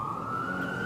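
A police car siren wails steadily at a distance under a low rumble of traffic, with no voices.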